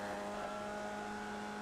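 A Formula Vee race car engine in the iRacing sim revs out high and steady, a loud sustained engine drone holding a constant pitch with no talk over it.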